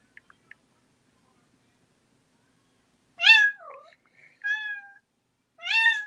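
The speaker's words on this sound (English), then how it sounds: "I got one of them talkative ass cats." A cat meows three times, loud and close, with short drawn-out harmonic calls and brief pauses between them after a few faint clicks.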